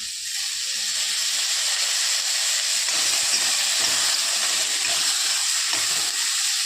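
Garlic and coriander sizzling in hot oil in a pan, a steady, loud, close hiss that runs unbroken throughout with no talk.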